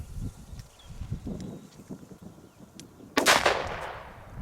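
A single sharp bang from a Dum Bum Black Edition PB120D firecracker, a sudden loud burst with a quick decaying tail, arriving after a few seconds of low outdoor rumble and faint wind.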